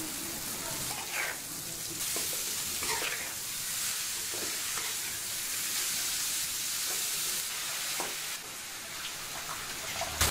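Chopped amaranth leaves cooking in a pan over low heat, a steady rain-like hiss of frying with occasional soft stirring clicks and scrapes throughout, moderately close and unaccompanied by talk.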